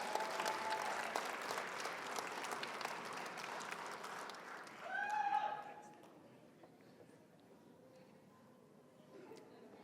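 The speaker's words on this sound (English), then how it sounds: "we should give a round of applause just for the pirouette alone" A graduation ceremony audience claps in a dense, steady wash, and a voice cuts through midway before the applause fades to a quiet hall.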